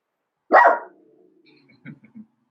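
A dog gives one loud, close bark, followed by a few fainter low yips and shuffling sounds in an otherwise quiet room.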